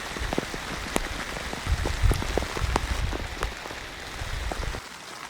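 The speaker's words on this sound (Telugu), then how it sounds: "ఇంత గట్టిగా వర్షం కురుతున్నా ఒక చుక్క వాన రాలేదండి ఇందులో లోపలికే." Heavy rain drumming on a tent during solo night camping, with close, irregular drop impacts and pattering over a continuous rushing wash, fading slightly at the end; no talking.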